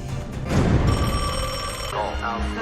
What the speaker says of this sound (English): The magic phone in the wall.